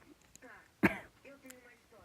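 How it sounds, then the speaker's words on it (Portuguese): A single sharp cough, close and fairly loud, amid soft murmured speech over Pixel Gun 3D gameplay. "eu tô tossindo por causa que essa minha tosse é chata"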